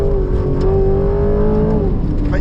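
A 2025 Aston Martin Vantage engine pulls hard on a track, its steady loud drone rising in pitch through acceleration and then dipping as the throttle eases, with no voices over it.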